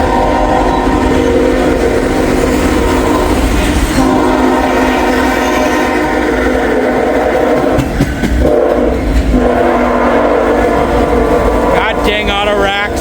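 A freight train of autorack cars rolls past close by with a loud rumble and rhythmic wheel clatter, its horn sounding, while someone talks over it.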